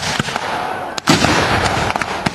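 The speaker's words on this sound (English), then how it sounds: "the Confederate cavalry is shooting down the Union gunners" Gunfire from a Civil War reenactment skirmish: several sharp reports scattered over a few seconds, one loud, close blast near the middle, heard against a steady crowd and outdoor hubbub.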